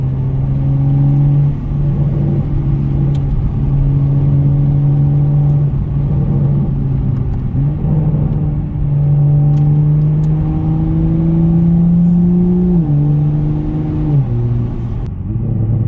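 A new Toyota Supra cruises at normal speed, its engine holding a steady, loud drone from inside the cabin, with the pitch easing up gradually and dipping briefly near the end.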